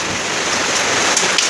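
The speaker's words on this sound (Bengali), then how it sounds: "এত বৃষ্টি আবার পাথরও পড়তেছে" Heavy rain pours down hard during a storm with hail falling, a loud dense roar of water, with a couple of sharper ticks of hailstones striking near the end.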